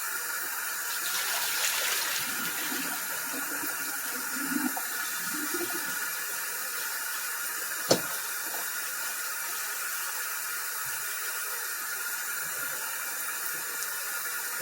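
Water from a kitchen tap runs steadily into a pot in the sink, a continuous hiss that holds nearly unchanged throughout, with a single sharp clink partway through.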